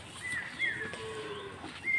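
Sahiwal bull calves low briefly at a cattle market in Dinajpur, a fairly faint moo against a murmuring background, with thin chirping calls mixed in.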